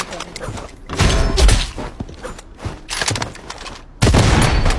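Gunfire in the Blood Strike shooter video game comes as loud, rapid bursts of shots separated by short pauses, with a fresh burst starting sharply near the end.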